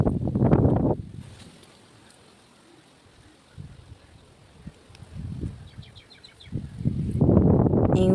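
Steady wind rushing and buffeting the microphone, with a low roar that rises and falls between louder gusts near the start and end.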